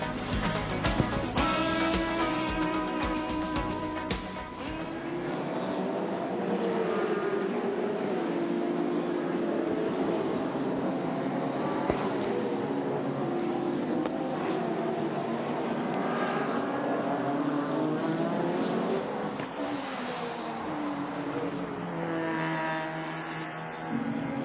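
Nissan and BMW touring race cars at Amaroo Park Raceway in 1992, engines roaring and rising in pitch as they pass, a continuous loud run with a sharp burst at the start.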